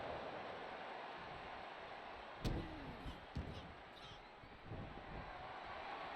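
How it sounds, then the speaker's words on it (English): A wrestler is slammed down onto the ring mat at an FEW Showdown wrestling event, one heavy thud standing out over steady crowd noise, followed by a second impact shortly after. "just slams him down."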